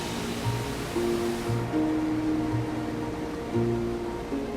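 The Mississippi River rushes continuously like a waterfall, a broad steady wash of roaring noise, with some low tonal hum beneath it.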